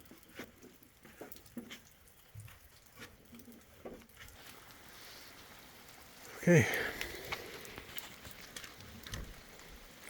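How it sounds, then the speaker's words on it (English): Light pattering rain ticks irregularly on a surface, faint and close, with a brief spoken word partway through and the patter growing a little denser later. "Oh, rain's getting heavy."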